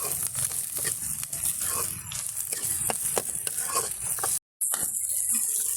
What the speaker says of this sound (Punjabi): ਇਹਦੇ ਵਿੱਚ ਪਿਆਜ਼ ਹਰੀ ਮਿਰਚ ਧਨੀਆ ਇਹ ਅਸੀਂ ਪਾ ਚੁੱਕੇ ਹਾਂ ਇਹਨੂੰ ਹੁਣ ਚੰਗੀ ਤਰ੍ਹਾਂ ਅਸੀਂ ਬਰਾਊਨ ਕਰ ਲਾਂਗੇ